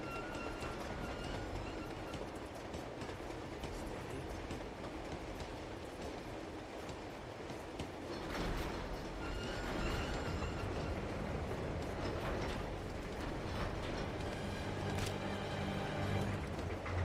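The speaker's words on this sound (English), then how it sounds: "How far has the train gone?" A moving train in the video game Uncharted 2 rumbles continuously with a dense rolling roar and rhythmic clatter, growing slightly louder partway through, with no speech.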